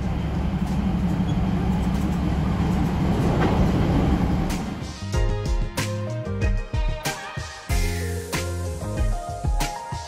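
A rumbling train runs steadily for a few seconds, then quiets into railway station ambience in Chachoengsao, Thailand, with clanks, thumps and a bright tonal chime.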